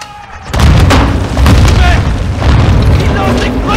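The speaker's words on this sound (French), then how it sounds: "Ils lancent des grenades !" Grenade blast in a first-person shooter: a loud, close boom that bursts in and rolls on as a heavy rumble, with more explosive thuds layered under the din of battle.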